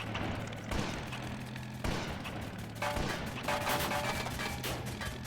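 Bursts of rapid machine gun fire crackle through a dense, noisy soundscape in the video game Warplane Inc., with a few sharp bangs and rattling volleys continuing throughout.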